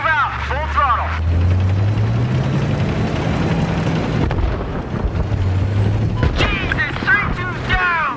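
A military vehicle in Battlefield 3 pulls away at full throttle, its engine droning low and rising under loud battle noise, as voices shout and talk over it.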